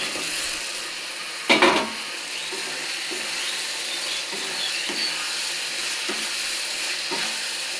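Fried pointed gourd pieces dropped into a pan of sizzling spices, a sharp clatter and burst of hiss near the start, then a steady, fairly quiet frying crackle with light stirring knocks throughout.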